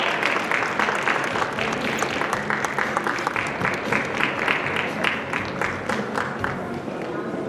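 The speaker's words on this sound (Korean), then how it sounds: "박수 부탁드릴게요." A crowd applauds at the opening ceremony of a Sejong City commercial vacancy fair, giving dense, sustained clapping that stays loud and even for several seconds before easing slightly.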